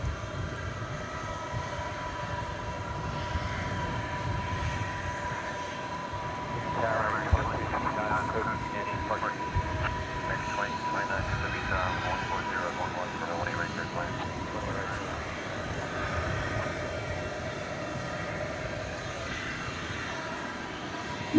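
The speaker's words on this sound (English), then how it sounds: "Here's one going out. Flight 1641. 777-200ER." A Boeing 777-200ER departing at night from Dallas Fort Worth airport, a sustained distant engine rumble and whine that swells in the middle, with a voice talking over it.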